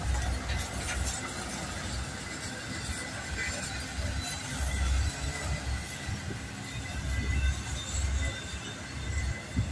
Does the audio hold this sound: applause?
no